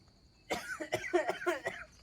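A person with a cold coughs in a short burst of several rapid, raspy coughs, close and fairly loud, against a quiet background.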